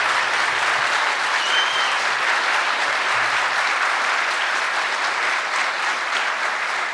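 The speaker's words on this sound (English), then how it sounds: "So please, a round of applause for these 5 candidates here." An audience at a federal election candidates forum in Cape Breton–Canso–Antigonish applauds five candidates, a steady, even wash of clapping that carries on throughout.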